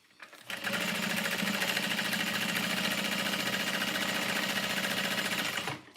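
A sewing machine bastes a seam on lining fabric, starting with a brief spin-up and then running steadily in a fast, close, continuous whir for several seconds before stopping, with no one talking.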